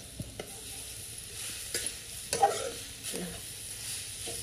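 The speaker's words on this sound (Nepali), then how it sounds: "यहाँ चाहिँ हामीले गिरी फ्राई गर्दैछौँ" Giri fried in a pan during Dashain festival cooking, with a soft, fairly faint sizzle and a few scattered scrapes and taps of stirring.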